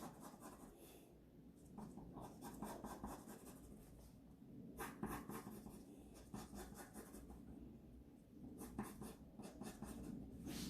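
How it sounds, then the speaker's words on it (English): Pen scratching across paper while drawing long, sharp piranha-like teeth on a big-mouthed fish, a steady close scraping with short strokes and brief pauses, no talking. "I'm going to draw some crazy long piranha type teeth"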